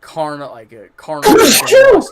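A sneeze bursts out over a man's speech, a sharp loud noisy blast coming after a few spoken words, with talking running around it.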